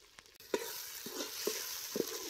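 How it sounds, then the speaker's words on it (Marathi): Masala roasting in oil on a village wood-fired stove for Kolhapuri mutton rassa, a soft low sizzle broken by a few distinct stirring scrapes and knocks at irregular intervals. "असं सौद्याला तेल सुटोसतोवर सौदा असा तेलात भाजून घ्यायचा."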